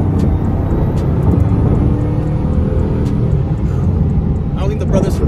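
Deep, continuous engine drone and turbo whir from a 1600 hp Bugatti Chiron Super Sport on the road, loud and close, with people's voices breaking in briefly toward the end.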